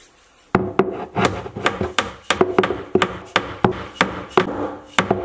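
A wooden post being tapped into its hole during a home remodeling job: a steady series of about a dozen sharp, close knocks at a roughly even pace, ringing briefly against wood, with no talk.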